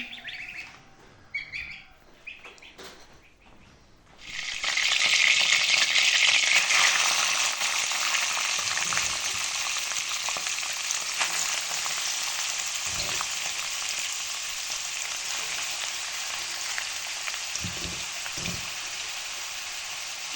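Loud, steady sizzling of cabbage pies frying in a pan starts after a few seconds of quieter background with bird chirps, then continues unbroken.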